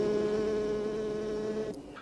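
Honey bees buzzing inside a hive, a dense steady drone with a clear hum holding level for most of the moment, then cutting off abruptly near the end, close and alone.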